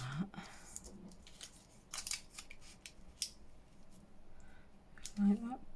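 Scissors snip through paper ephemera for a woodland-themed craft, giving a few short, soft crisp cuts and rustles close by under quiet background.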